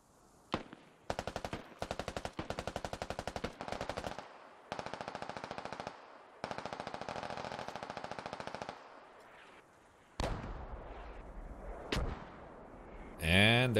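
Weapon fire in the Squad military video game: bursts of rapid automatic shots in long rhythmic strings, broken by pauses, then heavier isolated blasts and rumbling impacts toward the end, with a voice faintly under it.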